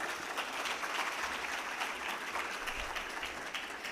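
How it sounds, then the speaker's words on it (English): Sustained audience applause for a CEO panel at a business summit, a dense, steady wash of clapping that holds evenly at full level from start to finish, with no voices standing out. "Maybe have a big round of applause for our entire panel"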